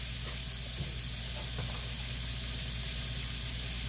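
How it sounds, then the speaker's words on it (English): Shrimp frying in a pan, a steady close sizzle and hiss of hot oil that holds constant throughout, with a few faint soft clicks underneath. "we're going to fry these for about 4 or 5 minutes"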